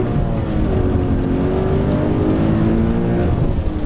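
Artificial engine sound of a 2013 Toyota GT86 piped through a cabin speaker, a loud, steady synthetic drone with rising harmonic tones as the car accelerates, heard from inside the car.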